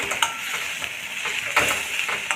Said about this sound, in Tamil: இப்போது இதுக்கு 1 நிமிஷம் கலக்கிட்டு